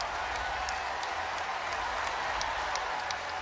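Crowd applause fills a women's college basketball arena during a South Carolina versus Ole Miss game, a dense, steady wash of clapping from many hands throughout, fairly distant, with no speech over it.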